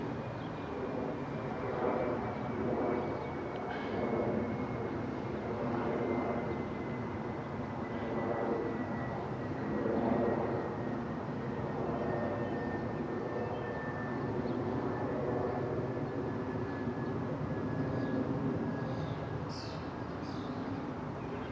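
An aeroplane passes overhead outdoors, a steady, broad engine roar that holds for over twenty seconds with a slowly falling whine, moderately distant and alone.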